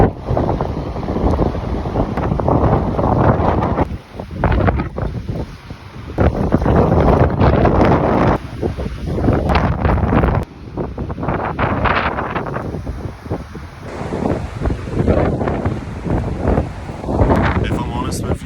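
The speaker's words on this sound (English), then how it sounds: "The wind's like throwing me off." Strong winter wind on a cold shore buffeting the microphone in heavy, loud gusts throughout, with a person speaking underneath.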